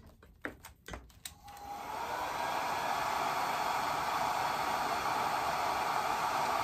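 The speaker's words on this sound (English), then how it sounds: "I'm so glad I discovered that my dryer isn't as loud as I thought it would be" A hair dryer drying watercolor paint switches on after a few clicks and handling knocks, then blows with a steady, loud whooshing roar until the end.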